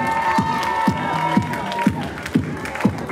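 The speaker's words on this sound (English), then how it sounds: "give her a round of applause" Crowd cheering and applause at a vogue ball, with rhythmic thumping beats and shouts under a lively, continuous roar, voices calling out over the noise.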